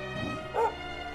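A single short dog bark from a dog in the video game Dragon Quest XI, a brief mid-pitched woof rising over a quiet, steady music bed.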